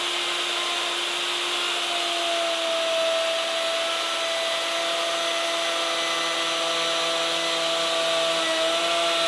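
A router makes a plunging cut for a back panel dado in a wooden wall cabinet side, giving a continuous high whine with steady tones that holds throughout, close and loud.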